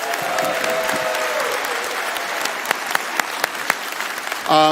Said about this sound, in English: Let's just applause for the moms right now.